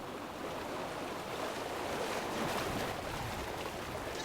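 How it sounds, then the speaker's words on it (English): Ocean waves wash and surge steadily around a video game island, a broad continuous rush of surf with gentle swells, close and fairly loud, no voices. "I also made the wave sound directional."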